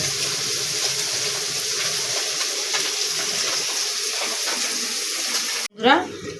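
Water is poured into a bowl of squeezed hog plum (amra) pulp, a steady rushing pour lasting several seconds before it cuts off, followed by a brief rising splash.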